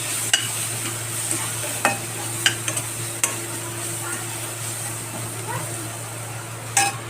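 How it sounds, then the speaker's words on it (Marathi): Crushed green chilli thecha with turmeric being stirred and sautéed in a pan, a steady low sizzle under scattered spoon scrapes and light clinks against the metal. "हा ठेचा आपल्याला फक्त व्यवस्थित परतून घ्यायचा आहे"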